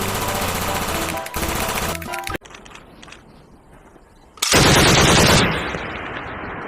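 A toy Gatling machine gun fires loud, close, rapid rattling bursts, pausing in between, with a final harsh burst that trails off.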